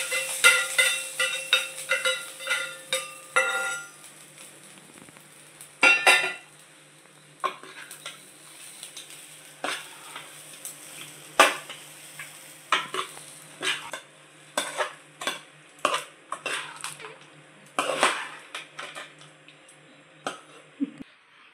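A spoon scrapes and clatters against a pot as fried tempering is stirred into rice for tamarind pulihora, in irregular close strokes with faint sizzling, busiest at the start and then in sparser bursts, almost without talk.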